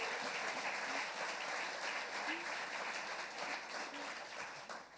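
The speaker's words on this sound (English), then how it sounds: "quick round of applause for our Eras tour" Audience giving a quick round of applause at a mountain biking history talk, a sustained wash of many hands clapping evenly, with faint voices murmuring underneath.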